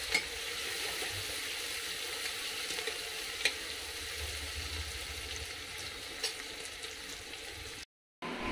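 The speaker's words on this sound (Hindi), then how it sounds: "प्याज को अच्छे से भूनेंगे। प्याज के साथ ही हम हरी मिर्च डाल देंगे इसमें।" Onions and green chillies fry in a pan until golden brown, an even, fairly quiet sizzle with a couple of faint clicks, cutting out briefly near the end.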